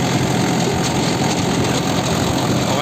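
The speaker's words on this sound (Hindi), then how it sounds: "ये 1500 RPM पे ट्रैक्टर चल रहा है, ऐसे चलता है सोहा सा एकदम।" A Mahindra 575 4x4 tractor engine runs steadily at 1500 RPM, a loud, continuous diesel drone with an even low rumble and no pauses.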